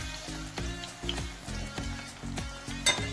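Hot oil sizzles steadily in a frying pan, ready for fish, with a soft, continuous crackle under background music.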